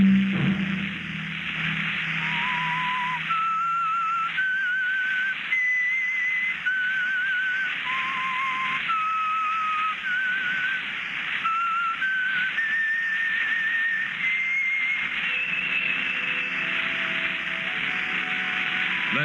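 A lone whistler carries a slow, eerie melody of sustained, gliding notes over a constant background hiss, ending with a few low instrumental tones.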